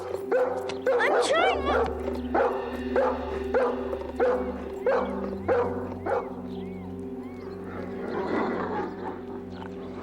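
A dog barks repeatedly in sharp, close bursts during the first half, then its barking fades as people talk over a steady background of music.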